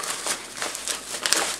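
Plastic packaging bags wrapped around a parcel of small tools are pulled open, giving close, repeated crinkly rustling bursts with brief pauses between handfuls.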